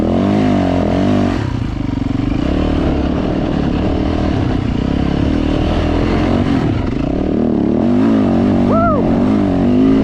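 A dirt bike engine, larger than a 125, revs hard and continuously up close in sand dunes, rising and falling in pitch with gear changes throughout.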